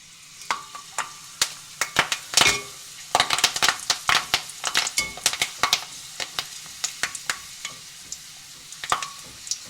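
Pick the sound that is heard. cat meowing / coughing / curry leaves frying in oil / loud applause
curry leaves frying in oil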